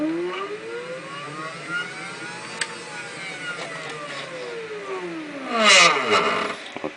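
A stepper motor drives a Daedal linear stage with a close, whining tone that sweeps up as it accelerates, holds, then glides back down as it slows, ending with a brief clatter.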